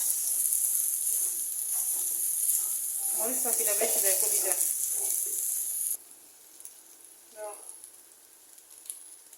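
Turmeric and chili powder fry with liver in hot oil, giving a steady, close sizzling hiss that quiets after a few seconds, with a voice speaking briefly over it.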